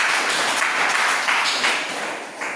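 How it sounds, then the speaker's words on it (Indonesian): A classroom of students applauding together, a steady dense wash of clapping hands that holds for a couple of seconds without voices on top. "Oke, tepuk tangan."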